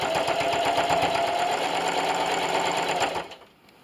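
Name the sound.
sewing machine quilting a mirrored heart table runner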